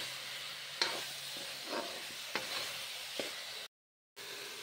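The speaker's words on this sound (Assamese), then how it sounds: "পিঁয়াজখিনি সিজাৰ পিছত মই এতিয়া ফুলকবি আৰু আলুখিনি ভালদৰে ভাজি আছোঁ" Cauliflower and potatoes fry in oil with onion, ginger, garlic and green chili, giving a steady close sizzle broken by a few sharp stirring scrapes, then a brief silent gap before the hiss resumes.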